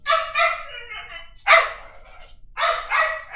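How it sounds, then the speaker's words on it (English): Several dogs bark in repeated bursts close by, loud yips and woofs in three clusters with brief pauses between, no talking over them. "Okay, the dogs are gonna go crazy for a little bit."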